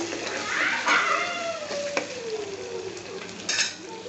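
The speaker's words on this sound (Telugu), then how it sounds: "అల్లం వెల్లుల్లి పేస్ట్ వేసి ఒక 1 మినిట్ వేయించుకుందాము పచ్చివాసన పోయేలాగా" Ginger garlic paste fries in a pan for tomato rice, producing a close, crackling sizzle with a stirring scrape partway through and a voice speaking over it.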